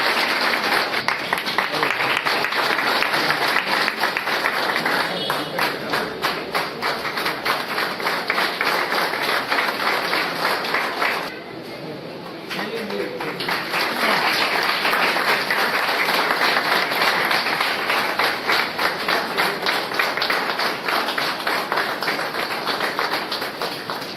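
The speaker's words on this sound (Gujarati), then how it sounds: "તેઓનું ખૂબ ખૂબ તાળીઓથી સ્વાગત કરીશું" A crowd applauds steadily and loudly at an educational ceremony held by a Gujarati carpenter community in Porbandar, the clapping sustained throughout with a brief softening near the middle before swelling again.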